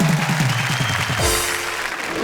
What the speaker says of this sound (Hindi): जरा जोरदार तालियां हमारे उन साथियों के लिए।